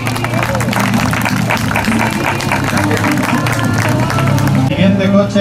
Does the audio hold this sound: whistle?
no